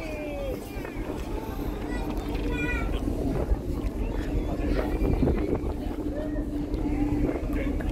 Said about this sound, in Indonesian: Ini anginnya lumayan kencang ya.